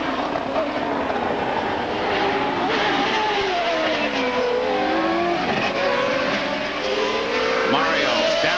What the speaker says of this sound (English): Let's listen, see how those engines are sounding.